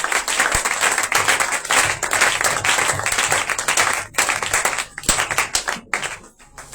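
A church congregation claps and applauds for the Lord in a loud, sustained wave of hands over several seconds, with a few voices calling out inside the din.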